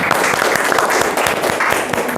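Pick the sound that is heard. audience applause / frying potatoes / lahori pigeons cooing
audience applause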